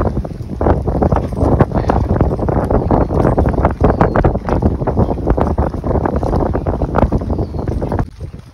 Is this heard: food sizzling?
no